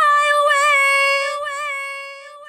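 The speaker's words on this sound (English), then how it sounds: "the flyaway voice line with kind of an echo and repeat effect" A sung or spoken "Fly Away" voice line treated with an echo and repeat effect. A single tonal, harmonic-rich phrase sustains and then fades away as the repeats trail off.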